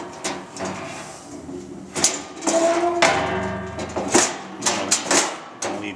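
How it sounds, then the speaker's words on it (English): A door on a Balestrini tenoner woodworking machine is slid and shut, giving several sharp knocks and rattling scrapes in a workshop at moderate loudness. "This door has to be closed."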